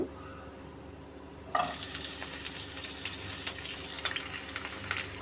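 Onions and chillies hit hot soybean oil in a pan, a faint quiet hush suddenly bursting into a loud, steady sizzle with crackling pops that continues to the end.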